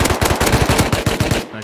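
Rapid automatic gunfire in the survival game Rust crackles in a fast, even burst of about a dozen loud, close shots, then cuts off abruptly.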